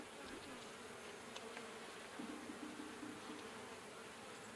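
Honey bees in an open hive during an inspection, a faint, steady, dense buzzing hum with a few individual bees droning nearer at moments.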